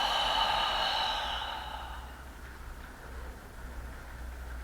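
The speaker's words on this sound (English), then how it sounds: "1 last lovely big inhale. And exhale." One long, deep exhale during yoga breathing, a breathy rush close to the microphone that fades over several seconds into quiet room tone.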